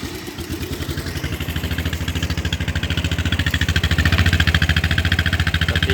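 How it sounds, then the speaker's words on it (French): A Hytrack 310 T 4x2 quad engine starts and settles into a rapid, steady idle, a close, loud throbbing putter that rises slightly in intensity toward the end, with no talk. "je vais vous le démarrer pour vous montrer le bruit"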